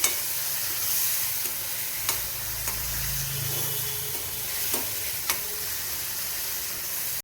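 Steady sizzling of gravy frying in a pan, with a few soft clicks of a spoon stirring; no talking.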